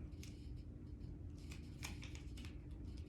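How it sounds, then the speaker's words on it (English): Masking tape being crumpled by hand to follow the curve of a guitar neck, giving faint intermittent crinkling and crackling over a steady low hum, close but quiet. "then crumple the tape up to follow the curve"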